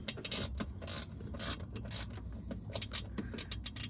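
Ratchet wrench tightening bolts on the ignition cylinder of a 2000 Jeep Cherokee XJ, quick bursts of sharp clicking pawl strokes in an irregular rhythm, close and fairly quiet, no talk.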